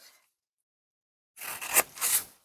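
A few quick snips sound close up as paper is cut for a lampshade, coming after a second of near silence, bright and crisp.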